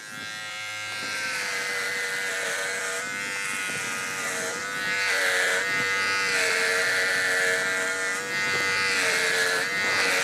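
A VGR V-082 electric hair trimmer with a 1 mm guard runs with a steady, loud buzzing hum while cutting hair, its pitch and intensity wavering slightly as it moves through the hair.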